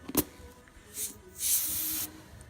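Compressed air from a ranch compressor hisses into a tire valve stem in short bursts: a brief click, a soft hiss, then a longer steady rush of air, close and alone.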